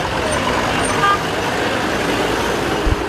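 Road traffic moving past a robotic traffic controller at a crossing in the Democratic Republic of the Congo, a steady dense hum of cars and trucks with a horn toot and a brief low engine surge near the end, voices faintly mixed in.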